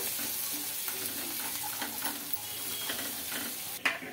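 Freshly pounded ginger garlic paste frying in a pan, a soft continuous sizzle with light stirring scrapes and a sharper utensil knock near the end.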